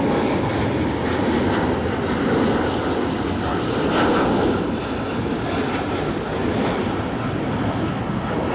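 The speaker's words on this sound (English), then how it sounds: "A bit like this United taking off rather than the EasyJet that is running in." A United airliner takes off nearby, a loud, broad jet roar that stays steady and dense throughout with a slight swell in the middle and no voices.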